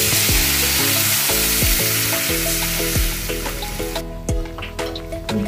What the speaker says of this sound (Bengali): অল্প চামচ হলুদ, এবার জলটা দিয়ে দিচ্ছি।